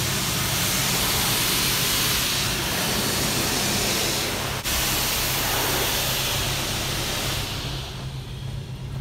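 Steady, loud spray of rinse water hisses across a BMW 335i without a break, a continuous broadband wash that only thins slightly near the end.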